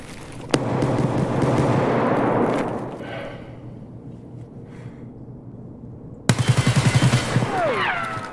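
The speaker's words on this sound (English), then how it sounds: "He's firing at me and we can't see him." Gunfire in the shooter game Escape from Tarkov from an unseen shooter: a dense burst of automatic fire up front, a quieter stretch, then a second sharp rapid volley with distinct repeating shots near the end.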